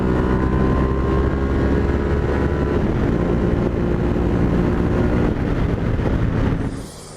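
Yamaha Tenere motorcycle on Dunlop D908RR rally raid tires climbing mountain Highway 18, a loud steady engine drone with wind rush close to the rider, cutting off sharply near the end.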